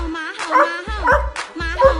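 A person imitates a dog, giving a string of short barking yelps in a voice, several in quick succession, up close and alone.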